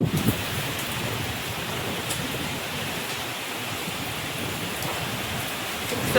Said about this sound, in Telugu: విపరీతమైన వర్షము నార్మల్గా కాదు దేవస్థంగా కుదురుతుంది